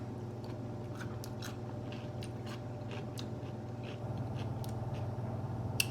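Crispy shrimp tempura is bitten and chewed up close, with quiet, repeated crunchy clicks over a steady low background hum.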